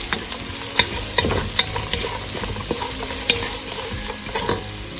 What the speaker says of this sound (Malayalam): 2 സവോള മീഡിയം സൈസിലുള്ള സവോളയാണ്, അത് നീളത്തിൽ അരിഞ്ഞതും കൂടെ ഇട്ട് കൊടുത്ത് വഴറ്റി കൊടുക്കാം.